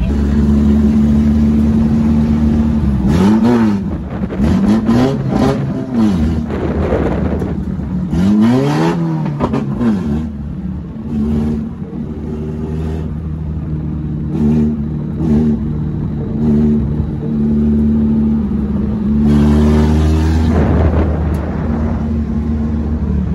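A modified 4EFTE turbo car engine idles loudly and steadily up close at a car show, with repeated sharp revs rising and falling throughout.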